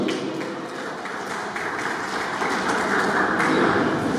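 Applause for the godfather at a baptism celebration: a crowd claps steadily and fairly loudly in a room, sustained for a few seconds.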